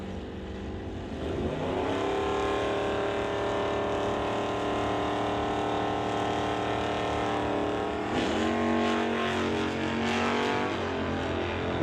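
A Chevy pickup and a Dodge Dart hot rod drag race, loud engines wailing up through rising gear pulls, then a second surge of revving partway through, steady and close with no talk.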